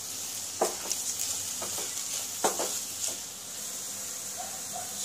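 Egg masala being stirred in a pan after garam masala and salt go in, a steady sizzle broken by a few scraping spoon strokes, close and fairly quiet.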